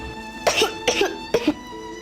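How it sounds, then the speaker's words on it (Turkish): Three sharp coughs in quick succession, close and clear, with a brief pause before the last one. "Öksürmemeye çalışıyorum ama tutamıyorum ki kendimi"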